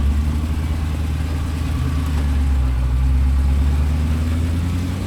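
A off-road vehicle's engine revs steadily on a Moab trail, a loud, continuous low rumble with mild swells in throttle, close by and with no talking over it.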